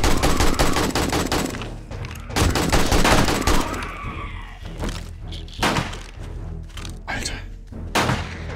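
Bursts of AK rifle gunfire in the survival game 7 Days to Die, loud and close, firing in several volleys with short pauses between them and voices talking over parts of it.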